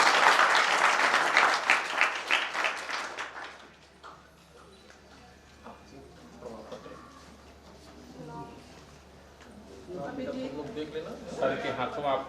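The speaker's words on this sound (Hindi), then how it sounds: "तालियां बजाओ भैया" Audience applause for a prize winner from Sanskrit University at a Tulsi Jayanti ceremony, a loud dense burst of clapping that fades after a few seconds into a quieter hall where people talk.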